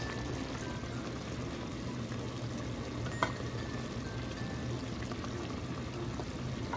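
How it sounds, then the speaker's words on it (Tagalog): Soft, steady bubbling and light sizzling of a sauce with red onions simmering in a pan for bangus (milkfish) steak, with a faint clink partway through. "hayaan lang natin siya ng mga 1 minute pa kumukulo"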